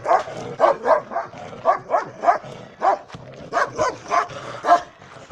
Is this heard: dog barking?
yes